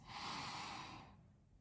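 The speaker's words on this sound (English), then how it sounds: "You want to take a deep breath in through the nose" A deep breath drawn in through the nose, close and soft, rising quickly, holding steady, then trailing off within about a second, alone without talk.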